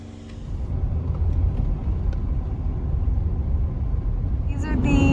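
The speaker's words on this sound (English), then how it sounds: "We're driving." A car drives through Death Valley with a steady low road rumble and engine drone throughout, a faint voice or hum creeping in near the end.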